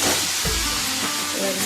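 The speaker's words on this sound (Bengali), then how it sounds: "এবার ইপিগুলো ভালো করে ভেজে নেবো, হয়ে যাবে।" Onion and capsicum frying in a pan with spice mix, a steady close hiss of sizzling oil with a brief low thump partway through.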